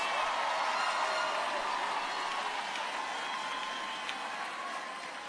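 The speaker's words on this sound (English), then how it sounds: "Give them a big round of applause." A large crowd at a Xavier University commencement applauds graduates, a steady wash of clapping heard from a distance that tapers slightly toward the end.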